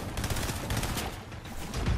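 Gunfire in a Fortnite match, a rapid stream of muffled shots at moderate distance, steady and fairly quiet throughout with no talking.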